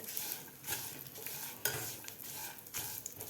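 Split peanuts roasting with sesame seeds in a dry pan, a steady faint rustling sizzle with repeated soft stirring scrapes, close and quiet, no voices.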